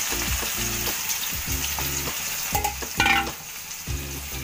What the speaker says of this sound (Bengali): তারপরে আমার তেলটা গরম হলো গরম হয়ে যাওয়ার পরে আমি এগুলি তেলের মধ্যে দিয়ে দিচ্ছি